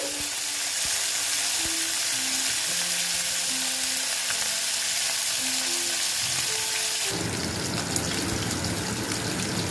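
Tangra fish fry in oil, a constant loud sizzle and crackle close up with faint tonal hums underneath, swelling into a harsher, brighter spatter near the end, with no voices.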